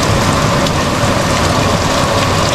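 Heavy rain pours steadily, a loud, dense hiss of drops hitting surfaces with no pauses and no voices.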